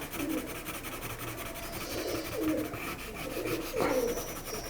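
Soft cooing and scratchy rustling from free-roaming pet birds in a house, low and fairly distant, spread through a steady hiss of household background with no one talking.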